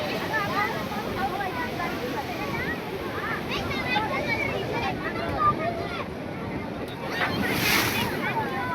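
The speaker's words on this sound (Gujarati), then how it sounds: "તો મિત્રો કેવા મોજા ઉછળે" Sea waves surge and wash along the Dwarka coast in a constant roar, with gusty wind buffeting the microphone and faint voices in the background.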